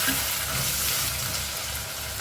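Ground garlic paste sizzling in a frying pan for a jackfruit-seed and brinjal kuzhambu, a short burst of dense, steady crackling hiss heard close with no voices.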